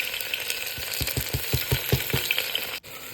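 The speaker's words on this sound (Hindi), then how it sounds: "तेल गरम हो गया है, अब हम इसमें 1 चम्मच जीरा डालेंगे और इसमें प्याज और हरी मिर्च मैंने कट कर लिए है, उसको डाल देना है" Cumin seeds, chopped onion and green chili sizzle in hot oil in a pan, a steady close frying hiss with a run of soft rhythmic stirring thumps and a brief dip near the end.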